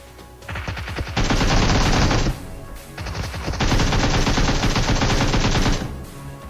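Thompson submachine gun fire in a video game, heard as two long, loud, sustained automatic bursts separated by a short pause.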